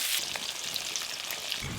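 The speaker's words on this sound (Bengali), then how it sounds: "আর এই মাছ ভাজা হতে খুব বেশি সময় লাগে না, তাড়াতাড়ি মাছ ভাজা হয়ে যায়।" Tilapia fish frying in oil in a pan, a steady close hiss and crackle of sizzling with no talk.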